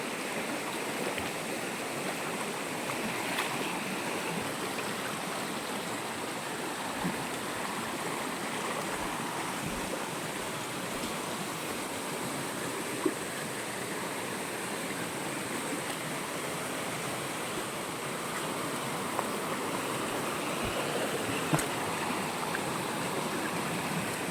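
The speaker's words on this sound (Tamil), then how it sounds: "பாறை ஃபுல்லாக தண்ணி போயிட்டே இருக்கிறது" Water rushes steadily over rocks at a village waterfall, a constant broadband roar that fills the whole stretch without pause, with no voices.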